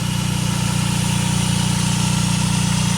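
PT Cruiser 2.4-liter four-cylinder engine idling close by, a steady, loud hum with an even low pulsing throb and no talking.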